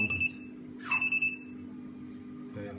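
An aligned safety beam receiver gives short electronic beeps, a steady high tone with a brief cluster of pulses near the middle over faint background hum.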